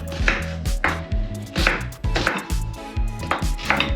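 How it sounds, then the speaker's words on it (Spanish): An onion being cut into large chunks with a knife on a cutting board: about a dozen crisp, evenly spaced chops, close and clear, with no talk. "la cebolla la podemos cortar en trozos como queramos, más grandecitos."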